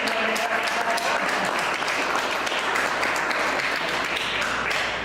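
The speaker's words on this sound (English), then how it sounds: "I'm giving yourself an applause for making this happen." An audience at a candidates' meet-and-greet event claps steadily throughout, a dense, continuous wash of applause with faint voices underneath.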